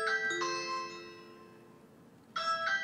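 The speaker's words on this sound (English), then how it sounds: "So when somebody pushes the doorbell, it's going to sound like this." A Ring Video Doorbell 3 Plus gives its doorbell-press chime: bright two-tone ding-dong notes that ring out and slowly decay, then a second chime starts near the end, clear and close.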